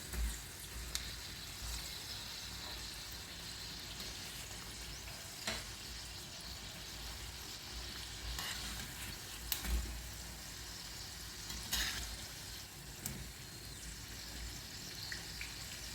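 Vegetable spring rolls frying in oil, a soft, low steady sizzle with occasional louder pops and clicks of handling, no voices.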